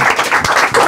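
Audience applause at a live music performance: a short, dense burst of clapping from many hands, loud and close, lasting under a second.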